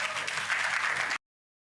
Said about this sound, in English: it deserves more than that as a round of applause